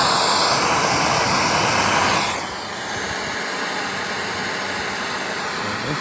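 A torch flame heats spray foam insulation in a fire test, a loud roaring hiss for about two seconds that then drops to a quieter, steady rushing burn.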